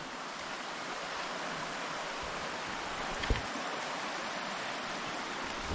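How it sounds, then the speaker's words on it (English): Stream in flood running out of Loch Trool, a dense, continuous roar of rushing water, close and steady throughout. "That water is in flood."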